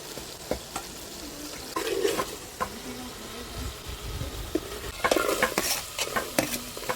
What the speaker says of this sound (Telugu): ములక్కాయ ముక్కలు చక్కగా మగ్గి నూనెలో వేగిని.